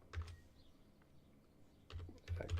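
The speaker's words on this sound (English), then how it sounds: "I'm typing it out." Typing on a computer keyboard, a few quick clusters of soft, close clicks at the start and end, faint with a quiet pause between.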